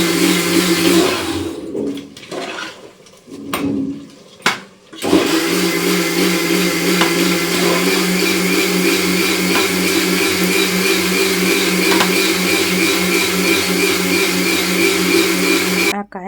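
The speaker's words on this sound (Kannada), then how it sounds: "ಕಾಯಿನ ತುಂಬ ನುಣ್ಣಗೆ ರುಬ್ಬು ಅಂತ ಹೇಳಿ ರುಬ್ಬಿಸ್ತಾ ಇದ್ದೀನಿ" A kitchen mixer grinder runs loud and steady, grinding coconut to a fine paste, with a few brief stops and restarts at first before a long continuous whir.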